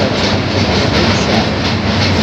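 Loud, continuous rumble of a train passing close by at the Hardinge Bridge, Paksey, with a steady roaring clatter filling the whole moment.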